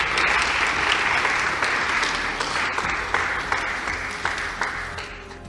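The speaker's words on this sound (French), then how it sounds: "sous nos applaudissements bien sûr." A congregation at a pastors' gathering at Cité Bethel in Kinshasa applauds, with dense, sustained clapping that carries on steadily and fades slightly toward the end.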